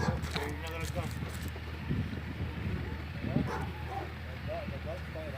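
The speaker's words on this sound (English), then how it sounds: "there's a dog barking in the background" A dog barks repeatedly in the background near a railway freight car, faint and intermittent, while people talk over it.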